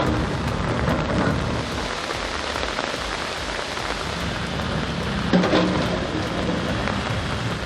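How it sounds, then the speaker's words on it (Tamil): Heavy rain pours down in the Udhampur area of Jammu, a dense, steady roar of drops hitting surfaces that continues without a break, with no voices. "உதம்பூர் பகுதியில் கனமழை கொட்டித் தீர்த்த நிலையில்"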